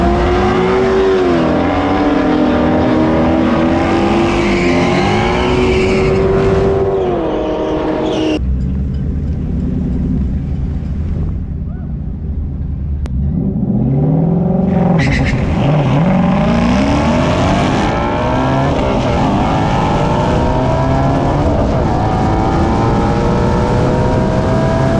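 Ford Mustang GT350 on a drag strip run: a loud engine screams up through the gears, cuts out briefly mid-run, then roars back and fades as the car passes, with no speech.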